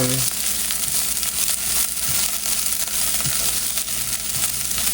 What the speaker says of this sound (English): Listen to that sizzle. Kind of toasting.